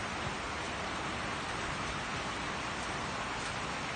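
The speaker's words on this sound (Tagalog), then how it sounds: "Lakas ng ulan sa labas eh." Steady, dense hiss of heavy rain pouring outside in Israel without pause, loud and even throughout with no voices.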